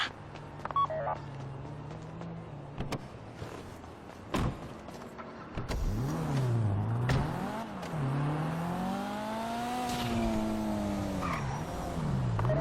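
A car in GTA Online driving during a heist, engine revving up and down in rising and falling sweeps with squealing tires, preceded by a few electronic beeps and sharp game sounds, fairly loud and without talk.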